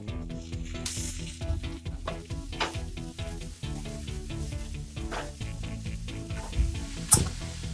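Sausage fries with onion in oil in a pan, giving a continuous close sizzle with scattered pops and scraping stirs, one sharp clink near the end, no voices.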